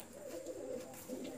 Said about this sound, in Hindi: ये मलवई ओरिजिनल मलवई पंजाबी कबूतर हैं आपके सामने